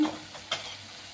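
Capsicum palya frying in a pan, a soft sizzle broken by a quick scraping stir, brief and fairly quiet.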